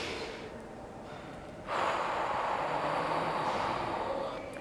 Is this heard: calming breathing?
yes